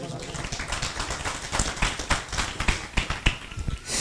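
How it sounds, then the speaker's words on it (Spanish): Church congregation claps for Jesus during a Quechua-language service, a steady run of sharp hand claps over about four seconds, nearby and mixed with voices. "a su gloria, dale palmas a Jesús."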